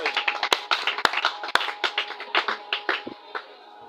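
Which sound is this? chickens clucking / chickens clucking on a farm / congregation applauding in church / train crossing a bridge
congregation applauding in church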